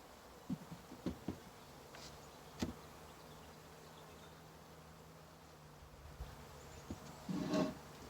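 Honey bees buzz around an open hive during a new package installation, a steady low hum close by with occasional louder passes and a few light knocks.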